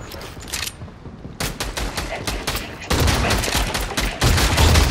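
A minigun fires in a video game with a loud, continuous, dense roar of rapid shots that breaks off briefly and then resumes, growing heavier in the final bursts.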